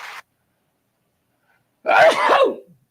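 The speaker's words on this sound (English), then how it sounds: "Hold on, I'm going to sneeze." A single loud, close sneeze bursts out after near silence, preceded by a brief faint breathy sound.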